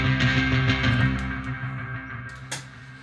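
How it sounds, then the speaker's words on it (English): Thick, sustained distorted electric guitar chords from the Omnisphere synth ring out loud and steady, with a sharp crash near the end as the sound gradually eases down. "What, with that bit of distortion?"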